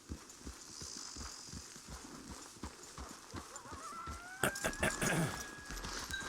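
Horse hooves clip-clop in a steady walking rhythm inside a video game, moderately close, with a brief burst of louder clatter and a rising tone near the end.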